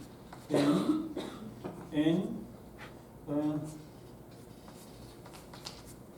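Marker drawing a chemical structure on a board during a lecture, faint squeaky strokes and taps, partly under a few bursts of voice and throat noise.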